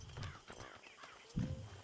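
A horse in the video game Red Dead Redemption 2 Online gives a short whinny over soft hoof clops, and a heavier thump lands near the end of the brief, fairly quiet moment.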